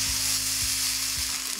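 Spices and green chillies sizzle steadily in hot oil in a village kitchen, with three soft, evenly spaced stirring thumps under the constant frying hiss.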